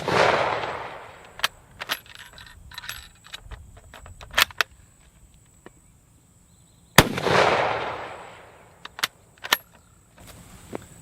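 Two loud carbine rifle gunshots fire about seven seconds apart, each a sharp blast trailing into a long outdoor rumble, with small clicks and handling noises in between.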